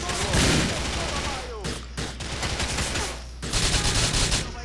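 Loud, rapid bursts of shotgun fire in the Grand Theft Auto IV video game, several blasts in quick succession with short pauses between volleys, dense and close, with a voice talking over parts of it.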